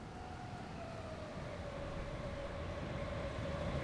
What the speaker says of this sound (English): Oh look, another train.